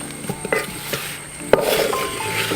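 Chicken curry with curry leaves being stirred in a pan, a few soft scraping clinks of the spoon against the pan over a low background sizzle, close and fairly quiet.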